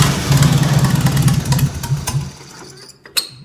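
A Farmall Super A tractor engine turns over and runs briefly with a loud, rough pulsing chug that fades out after about two seconds, followed by a sharp clunk.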